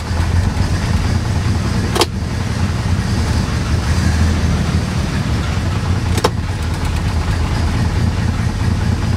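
A 1957 Plymouth two-door barn find, parked over twenty years, runs with a steady, rough low engine rumble, close and loud, broken by two brief clicks.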